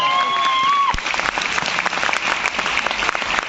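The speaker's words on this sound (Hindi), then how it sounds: "ताली बजाने में मजा आ रहा है?" An audience at a Vestige business seminar claps loudly and steadily for several seconds, following a short electronic tone at the start.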